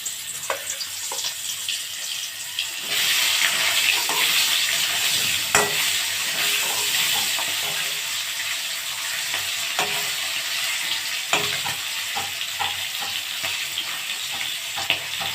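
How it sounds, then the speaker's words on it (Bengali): Snakehead fish sizzles and crackles in hot oil in a wok, a steady close-up frying hiss with scattered sharper pops, rising louder after the first couple of seconds and holding throughout, with no talking. "তেল গরম হয়ে গেছে, এবার আমি মাছ দিয়ে দেব।"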